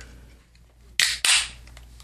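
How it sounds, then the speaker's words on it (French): A can of Abita Hop 99 beer cracks open with two sharp, close pressurised hisses in quick succession, each a bright burst of escaping gas, against an otherwise quiet room. "Oui, comme vous l'entendez, c'est une canette."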